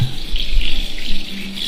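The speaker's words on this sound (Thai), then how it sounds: "เพราะฉะนั้นต้องล้างก่อนนะครับไข่นะ" Eggs are washed under running tap water, a steady close hiss of flowing water splashing into a sink with no talk.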